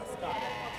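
Sheep bleating in a livestock pen at a market in Cachoeirinha, Pernambuco, a single sustained nasal bleat heard close and moderately loud over a background of voices.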